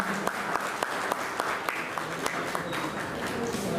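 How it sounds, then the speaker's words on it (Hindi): Crowd at an outdoor political party gathering applauding guests as they come up to the stage, a sparse, fairly distant patter of claps with a few sharp louder ones, under a murmur of voices. "आप लोग उनका स्वागत तालियों से कर दीजिए।"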